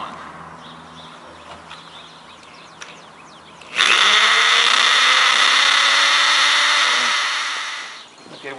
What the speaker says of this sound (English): start at the top hole and drill your 1/4 inch hole